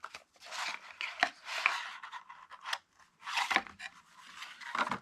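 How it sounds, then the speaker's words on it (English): A used deck of cards is opened for the first time, with close, quiet bursts of crisp paper rustling, sliding and snapping in irregular bunches, separated by short pauses. "So, I have not opened this deck. This is the first time I've opened it."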